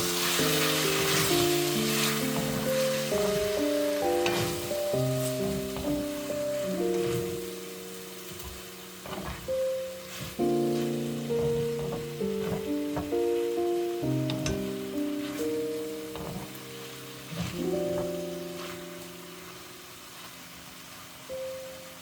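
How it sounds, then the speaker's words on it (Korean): Tofu and pork sizzle and crackle in a hot pan as they are stir-fried with seasoning sauce, a steady close frying hiss with occasional scrape and stir noises, while music plays over it. "양념이 골고루 배이도록 볶아주세요."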